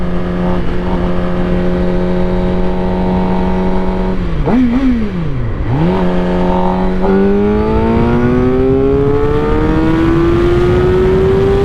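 2020 Suzuki GSX-R750 sport bike accelerating hard from close by, engine holding a steady note, dipping and recovering through quick throttle changes, then climbing in one long rising pull at high speed over rushing wind noise.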